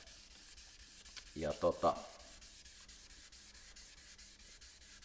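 A 1982 Porsche Targa's surface is sanded by hand with 1500-grit sandpaper on a sanding block, giving a soft, steady, faint rubbing under a brief spoken word.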